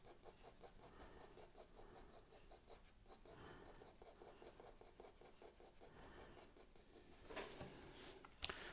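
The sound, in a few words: pencil strokes on paper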